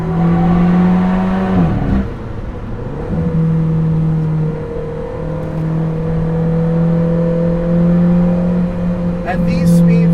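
A tuned Alfa Romeo 4C engine drones steadily while driving at moderate speed, with a brief rev dip around a gear change early on, under continuous cabin talk from the driver.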